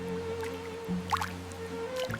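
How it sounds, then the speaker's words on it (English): Water drips as a broad fern leaf is washed in a 3D animated fairy tale, with a few close, soft drips and small splashes over a quiet background hum. "She washed it with care"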